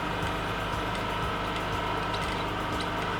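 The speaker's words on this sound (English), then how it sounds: "I will lift up my presser foot, then adjust my fabric a little like so, and I will continue sewing" A sewing machine stitches fabric for a white garment with a square neckline, producing a continuous mechanical hum with a rapid rhythmic needle clatter, close and steady.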